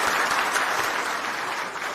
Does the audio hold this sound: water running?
no